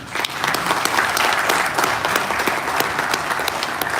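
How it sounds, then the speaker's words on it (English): A seminar audience applauding steadily, dense rapid clapping that stays loud and even throughout, with no voices on top. "I would like to express huge round of applause on behalf of Quality Austria team."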